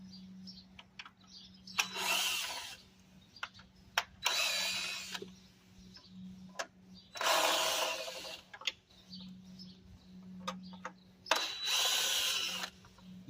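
Cordless power tool on a Dodge Challenger backing out valve cover bolts, running in four loud bursts of two to three seconds each, separated by pauses with a steady low hum underneath.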